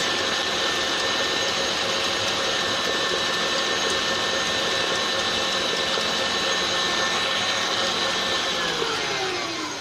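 A hand mixer beats 100 grams of sugar with eggs for a speckled marble cake batter, giving a steady, loud, continuous motor whir that holds for the whole stretch and eases slightly at the very end.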